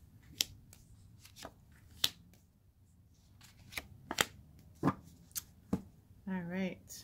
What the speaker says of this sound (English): Giving it a few more little shuffles until Spirit tells me to stop